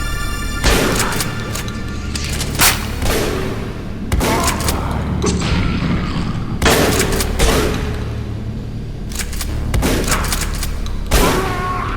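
Gunfire in the video game Ashes: Afterglow, with loud booming shots and bursts arriving every couple of seconds over a dense, rumbling battle background.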